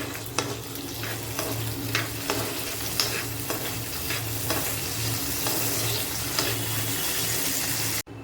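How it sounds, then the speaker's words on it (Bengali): Soaked cashews and raisins stirred into pulao in a pan of ghee, giving a steady sizzle with regular scraping strokes of a spatula throughout, close and fairly loud. "নেড়ে নেবো"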